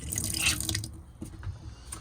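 Water runs briefly from a stainless steel sink faucet in a truck camper, a close splashing burst that thins into soft trickles and drips.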